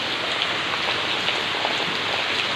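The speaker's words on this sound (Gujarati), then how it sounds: "પણ ત્યાં વરસાદ આવી ગયો જો" Steady, dense rain pouring down in a Gujarati village, hissing loud and close as it hits surfaces, with no voices present.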